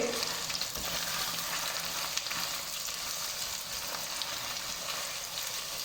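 Finely chopped onions fry steadily in a karahi for achari chicken, giving a dense, continuous sizzle with light stirring scrapes, close and even.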